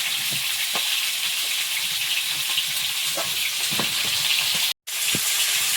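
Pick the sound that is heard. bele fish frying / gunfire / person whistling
bele fish frying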